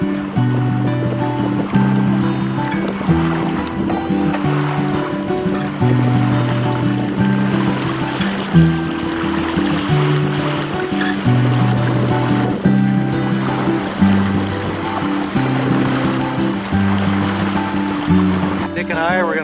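A sailboat moves through water with a steady wash and lapping under a sustained low musical drone, the water sound continuous and moderately close throughout.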